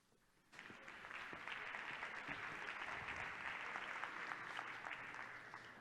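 Applause from a conference keynote audience breaks out after a brief quiet start, then carries on as a steady, fairly loud wash of clapping from many hands until the end.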